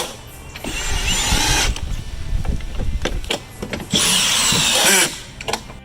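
A power drill drives screws into Trex composite deck boards held by hidden Camo clip fasteners, in several loud whirring bursts of a second or two, the last one the strongest, with short pauses between.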